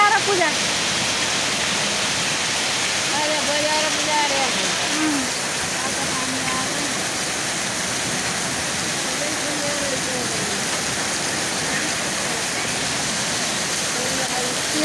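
Rain mixed with hail pelting down outdoors in Gaindakot, Nepal, making a loud, unbroken hissing roar that holds steady throughout, with faint murmurs underneath.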